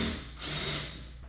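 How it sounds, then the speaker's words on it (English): A power tool whirs briefly while working on a Subaru car during a tune-up, a close buzzing surge that rises and fades within about a second, with no voices. "Power tools are nice, man."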